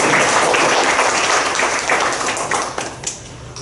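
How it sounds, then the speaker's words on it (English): Warm applause from a symposium audience, a dense round of clapping from a roomful of people that holds steady, then tapers off with a few last claps. "Everyone, I want a warm round of applause"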